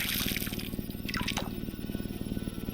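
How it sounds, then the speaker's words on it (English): Video game sound of watering beet seeds: soft splashing and dripping of water poured onto soil, with a few brief gurgles over a quiet, steady background hum. "Then I watered the beet seeds"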